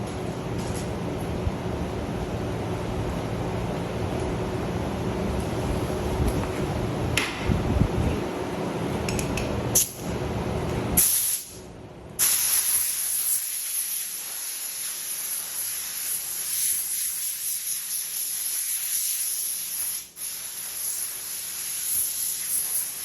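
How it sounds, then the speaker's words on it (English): An air blower clears debris off a PVC sign with a loud, steady rushing hiss that lasts the whole time, broken by a brief dip and a short sputter partway through. "Let me grab the blower and blow that off."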